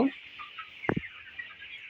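Broiler chickens, twenty-three days old and raised in winter, give one short cluck in the middle, with faint, soft bird chatter and hiss around it at low volume.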